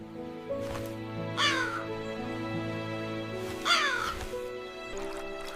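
A cartoon crow in an animated story gives two loud, harsh caws a couple of seconds apart over soft background music.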